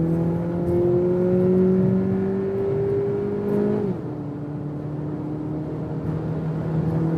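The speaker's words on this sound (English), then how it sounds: "let me do one more acceleration here when we're already at speed" A BMW X1 or Audi Q3 compact premium SUV accelerates hard from speed, its engine note climbing steadily in pitch with heavy road and wind noise inside the cabin, then dropping sharply at a gearshift and settling into a steady drone.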